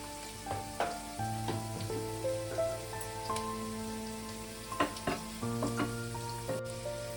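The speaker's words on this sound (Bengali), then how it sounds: "প্যান বসিয়েছি, একটু তেল দিয়ে আমি ডিমটা ভেজে তুলে নেবো।" Egg frying in a little oil in a hot pan, a steady sizzle with scattered pops and sharper crackles throughout, close and fairly loud, with faint tonal background hum.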